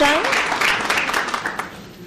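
Audience applause at a Houston school board meeting: a dense, steady patter of many hands clapping, fairly close and sustained, with a voice speaking over the start.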